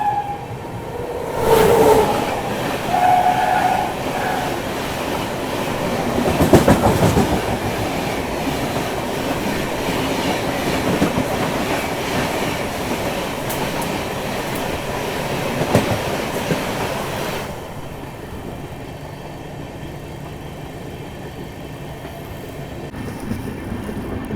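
The Chhattisgarh Express passes close by in dense fog, heard from aboard a moving train. A loud, steady rumble with clattering wheels and brief squeals carries for most of the stretch, then drops to a quieter hum.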